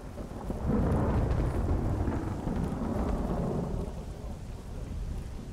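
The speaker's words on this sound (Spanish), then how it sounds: "Con tremenda tormenta que hay" A thunderstorm in the video game Stalker Anomaly: a heavy, rolling rumble of thunder swells and lingers over a dense wash of rain, loud and continuous with no voices.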